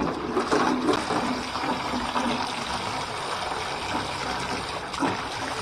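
Water runs steadily from a tap into a bucket being rinsed out after a fish tank clean, a continuous loud splashing rush with slight gushing swells and no talk.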